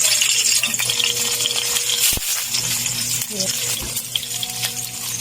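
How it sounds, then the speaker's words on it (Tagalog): Food frying in cooking oil during preparation of adobong pipino and tuyo, a steady broadband sizzle throughout with a few sharp clinks and bumps, while someone talks over it. "maglagay na po tayo ng mantika. At ayan, iprito na po natin."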